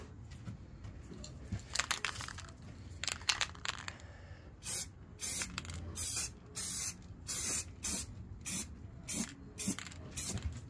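Spray can painting a 3D-printed Squidward figure indoors, short hissing bursts of spray repeated in a steady rhythm, close and fairly loud, after some quieter rustling and handling.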